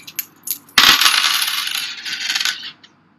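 Coins drop onto a hard surface during a probability lesson: a few faint clicks, then a bright burst of clattering and ringing that settles over about two seconds.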